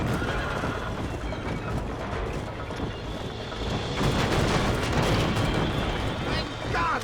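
A horse whinnies and gallops in the video game Red Dead Redemption, its loud neighs over rapid hoofbeats and rumbling booms, swelling louder toward the end.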